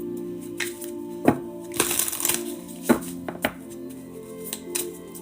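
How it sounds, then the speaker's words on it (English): Tarot cards are shuffled by hand in a few separate bursts of riffling and slapping, close and fairly quiet, with pauses between. "Shuffling for Ashley Sanchez."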